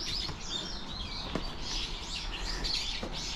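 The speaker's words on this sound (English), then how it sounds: "You've got all the birds chirping about." Birds chirping among autumn trees around Nishio Castle in Japan, with scattered high tweets and calls over a soft outdoor background hum and no voices.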